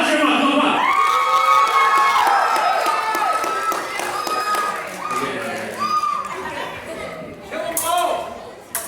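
A crowd at an armored combat demonstration cheers and shouts for a fighter, with loud sustained whoops and yells, children's voices, and scattered clapping that tapers off toward the end.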